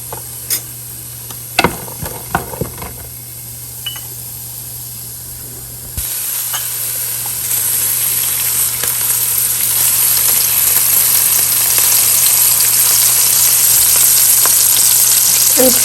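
Chopped onion hits hot oil in a cooking pot, starting with a few clinks and then settling into a steady, loud frying hiss that grows a little fuller midway, with no one talking.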